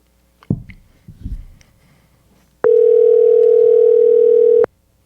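A telephone dial tone hums steadily for about two seconds as a call-in podcast connects its next caller, a loud, even electronic tone that follows a few soft clicks and handling noises.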